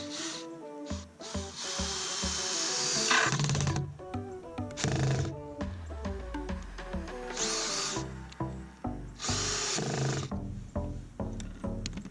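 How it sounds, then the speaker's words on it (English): A power drill whines in repeated bursts, slowing and straining as it bores into very hard concrete, with short pauses between pushes. "that was slow drilling because that concrete is so hard"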